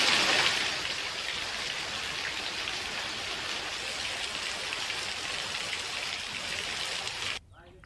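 Steady morning rain falls in Gujarat, a dense, even hiss of drops that holds for several seconds and then drops away suddenly near the end.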